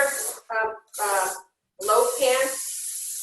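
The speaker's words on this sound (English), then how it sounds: "loaf pan, and you spray it." Cooking spray hissing into a loaf pan for greasing before baking banana bread, three close, loud bursts of aerosol spray separated by short pauses, with a voice speaking nearby.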